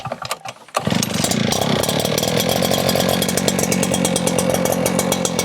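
A two-stroke Echo PB9010T gas leaf blower sputters, then revs up to a loud, steady, buzzing roar that stays close and constant.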